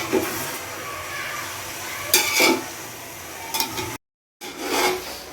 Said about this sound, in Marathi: आता हे मटण चरबीमध्ये टाकल्यानंतर मिक्स करून घेऊया ऑइलमध्ये